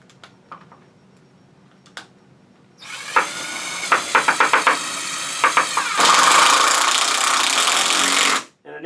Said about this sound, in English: An impact screwdriver does very well for that.